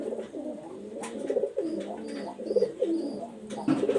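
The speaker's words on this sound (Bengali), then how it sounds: "এরা কিন্তু বন্দলেজের কবুতর হবে।" Baby fantail pigeons coo continuously in low, warbling, throaty calls, close by, with several overlapping birds and small pitch swoops throughout.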